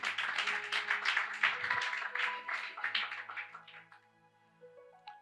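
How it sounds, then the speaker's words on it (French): Applause from a church congregation fills a hall, a dense, steady patter of many clapping hands that thins out and fades after about four seconds. "Applaudissez pour lui"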